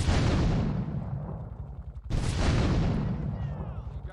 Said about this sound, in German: eigentlich müsste der Raketenwerfer genug Wumms haben, um hier durch die Wand, also durch diese Decke zu ballern.